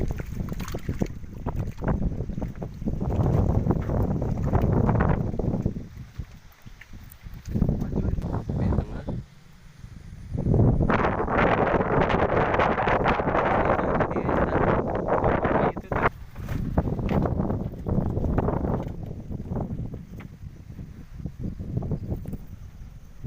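Gusty wind buffets the microphone on a boat on the Cirata reservoir during a fishing trip in rough weather, with loud, surging roars that rise and fall in long waves, and people talk intermittently over it.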